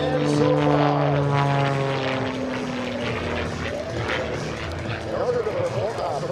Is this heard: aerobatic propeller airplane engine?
yes